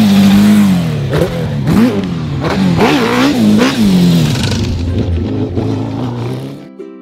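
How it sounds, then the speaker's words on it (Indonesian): A dirt bike engine revs loudly and close, its pitch rising and falling through repeated throttle blips before cutting off abruptly at the end. "D is for dirt bike,"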